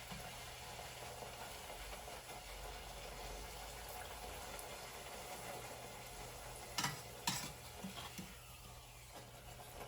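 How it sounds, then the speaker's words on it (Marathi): Puris deep-frying in hot oil for a Lakshmi puja meal, a soft steady sizzle running throughout at low level, with a couple of brief clatters of utensils near the end. "पुरी तळून घेत आहे मी आता."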